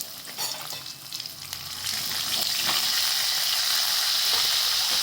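Curry leaves and crushed garlic sizzle in hot oil for drumstick kadhi, a steady dense frying hiss that jumps louder partway through as the leaves hit the pan, close and continuous with no talk.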